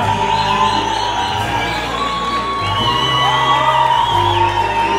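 Crowd cheering and whooping at a family's surprise for a singer at his album release event, a dense, steady roar of voices that swells and holds close throughout.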